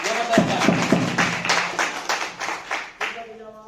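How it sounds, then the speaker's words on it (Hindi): An audience claps for a woman in a short burst of distinct, somewhat uneven hand claps, fairly close, with a voice speaking over them. "दीदी के लिए तालियां बता दीजिए साहब"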